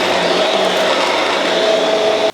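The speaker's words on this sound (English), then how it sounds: "I'm going to vacuum the stairs. I'm going to get all this hair up." A vacuum cleaner runs steadily and loudly as it cleans pet hair off carpeted stairs, a constant whine and roar that cuts off abruptly at the end.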